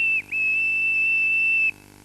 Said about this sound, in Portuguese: Vamos ver se isto ainda apita.